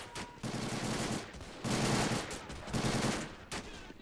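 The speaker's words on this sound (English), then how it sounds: "Is that a grease gun? I think it is." Bursts of automatic fire from an M3 grease gun in a Korean War hill battle in the RobZ Realism Mod, three sustained rattling strings with short pauses between them and no talk.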